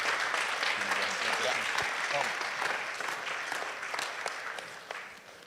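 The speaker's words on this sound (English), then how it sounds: "round of applause, everyone" Audience applause at a community meeting in the Floyd County Library, steady mid-sized clapping that gradually thins and tapers off over about five seconds, with no talk over it.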